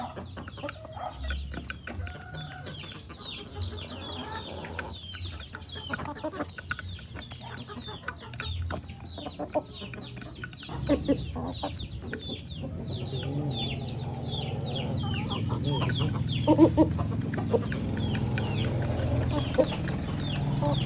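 A flock of Rhode Island Red and other backyard chickens clucks and chatters continuously nearby while they feed on leaves, with many overlapping calls and a rising low rumble toward the end.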